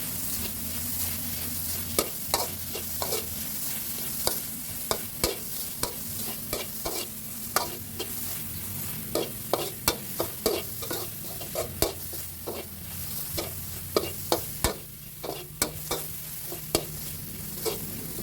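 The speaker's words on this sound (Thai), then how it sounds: "ให้นำเครื่องแกงที่เราตำได้มาคั่วในกระทะร้อนๆนะครับ" Pounded Thai curry paste dry-roasted in a hot pan without oil for a mushroom and cha-om curry, with steady scraping stirs and sharp clicks of a utensil against the pan over a constant low background hum.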